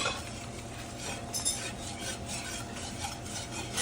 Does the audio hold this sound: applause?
no